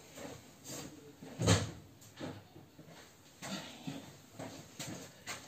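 A door at home being opened to let a cat in, with a few soft knocks and a sharper clack near the start, then quieter rustles and handling noises in a steady indoor background.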